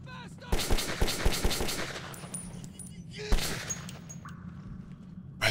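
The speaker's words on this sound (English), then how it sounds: "I think that was shooting that guy's body armor." Metro 2033 gunfire in the post-apocalyptic tunnels, a burst of rapid automatic shots, then a pause and a few more cracking rounds, moderately loud, with faint ambient tones behind.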